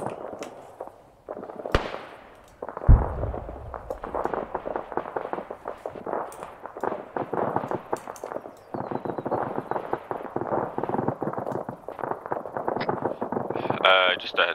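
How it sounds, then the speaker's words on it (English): Arma 3 milsim battle with a dense stream of distant gunfire and pops, one sharp louder bang early on, running continuously under ongoing radio chatter and voices. "That sounds like a lot of fire."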